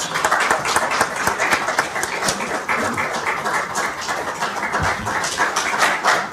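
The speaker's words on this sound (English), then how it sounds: "Give her a round of applause" Steady, dense applause fills a marketing convention hall as a speaker is welcomed to the stage, many hands clapping continuously and loudly throughout.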